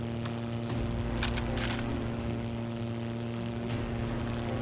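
Droning piston engines of Dornier 17 bombers in the Battle of Britain flight game 303 Squadron: a steady, loud, humming engine note held throughout, broken by a few brief, sharp bursts of noise.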